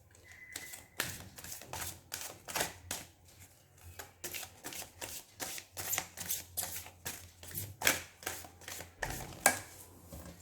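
A tarot deck being shuffled, with a dense run of quick papery riffles and card slaps repeating close up for the whole stretch, fairly quiet and with no voices.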